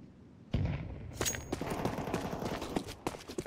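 Gunfire in the video game Counter-Strike 2, a sudden onset of rapid shots and clattering bursts with sharp cracks, fairly loud and continuing in uneven volleys.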